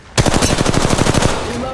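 Rapid automatic gunfire in Apex Legends Mobile, a loud close burst of about fifteen evenly spaced shots fired in quick succession, trailing off into a brief echoing tail.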